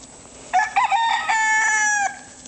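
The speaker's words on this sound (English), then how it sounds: "You do know you got chickens behind you," A rooster crows loudly and close among a flock of chickens on grass, a choppy start breaking into a long drawn-out crow that ends abruptly, with no talking over it.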